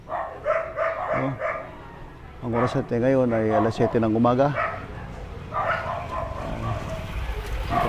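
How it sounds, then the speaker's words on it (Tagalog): Several dogs bark outside a house on a quiet street in the early morning, loud at times and farther off at others, while someone talks over much of it. "nag-iingay mga aso"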